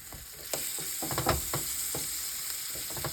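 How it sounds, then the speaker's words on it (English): Peppers and onions fry in a pan, a steady sizzle with small crackles and scraping stir sounds close by, and no talk. "So this just gets your peppers and onions going a little bit before you put the potatoes in."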